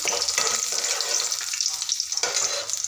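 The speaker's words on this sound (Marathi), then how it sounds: "त्यामध्ये मी कांदा सोडते आपला कांदा छान मस्त खरपूस असा भाजून घेतो" Onion crackles in a hot pot, a bright loud sizzle with intermittent stirring scrapes, heard close and alone.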